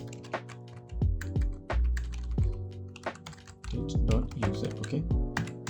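Computer keyboard keys clatter as code is typed, a close series of quick taps and thunks in uneven bursts with short pauses between.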